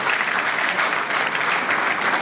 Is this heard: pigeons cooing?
no